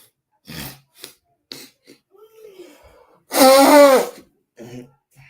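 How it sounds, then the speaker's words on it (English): A single loud, sharp sneeze bursts out midway, preceded and followed by brief snatches of speech and a soft throat sound. "Incense got me sneezing."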